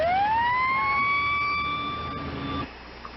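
An emergency vehicle siren in 1989 Boston, one loud, close wail that rises steeply and holds high for about two seconds before cutting off, leaving low background hum.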